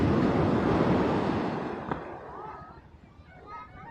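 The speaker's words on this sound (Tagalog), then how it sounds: "Nakakatakot yung alon kahit ng ganyan-ganyan lang, babasagin yung bangka mo dyan." Sea waves surge and wash around a fishing boat off Naic, Cavite, a loud rushing swell that fades away into quieter water and wind.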